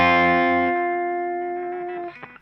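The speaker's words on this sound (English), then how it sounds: "Back to these notes here with the distortion off and the chorus on." A clean electric guitar with distortion off and chorus on plays a riff, with a bright strummed chord that shifts to a single sustained ringing note, slowly decaying, then briefly muted at the end.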